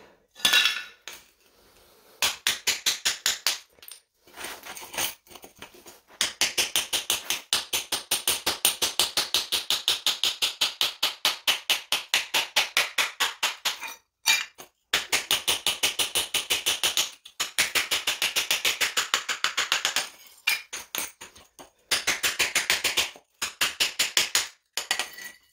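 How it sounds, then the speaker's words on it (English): Hammer blows on a chisel chipping floor tiles loose, a dense rapid series of sharp metallic strikes in bursts with brief pauses, loud and close, no talk. "as you hear that change in sound, you know the tile is beginning to come loose"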